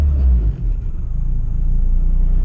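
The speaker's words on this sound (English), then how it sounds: "I'm gonna give it a quick rev and see how the idle actually comes down and reacts" Turbocharged Honda B18C1 engine in an EG GSR hatchback, given a short rev at the start before a loud, close, deep rumble settles back into a steady idle.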